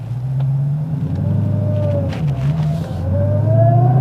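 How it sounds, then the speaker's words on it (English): A Dodge Challenger in valet mode, with its rev limit held to 4,000 RPM, pulls away from a stop sign, its engine droning loud and close, the pitch climbing and dipping through the gear changes. "Now let's do an acceleration test at that next stop sign."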